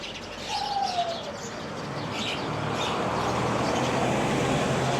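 Faint, scattered bird chirps and calls in a garden in the morning, against a steady outdoor background hiss, with a distant hum of traffic.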